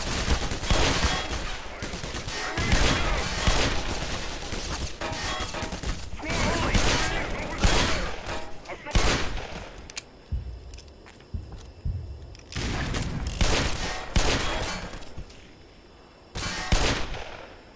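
Gunfire in the video game Black Mesa: loud, repeated bursts of shots in clusters, separated by short quieter gaps with faint mechanical clicks and rattles between volleys.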